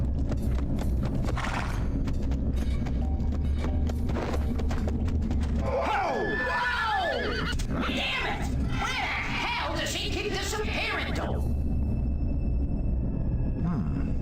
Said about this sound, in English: That horse is pretty jumpy.